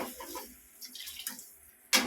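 Water is poured into a cooking pot while a tamarind-based pori kuzhambu is being prepared, a soft running splash that ends in a short, louder gush.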